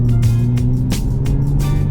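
A Nissan Altima with a new intake and exhaust, heard from inside while driving: a steady, loud engine drone with road noise and occasional whooshing bursts.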